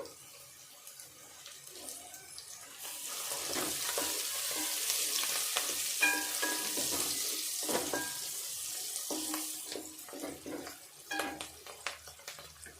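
Bay leaf and spice flower sizzling in hot oil for a chicken curry tempering, a close steady frying hiss that swells in the middle, with intermittent clicks and scrapes of stirring.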